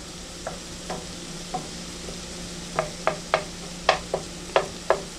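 Radish greens sizzle in a hot pan on a stove while being stirred, a steady frying hiss broken by a series of sharp spoon or spatula scrapes and clicks, close and alone.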